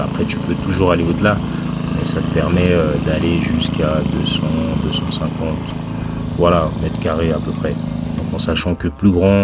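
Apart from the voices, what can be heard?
petrol lawn mower engine running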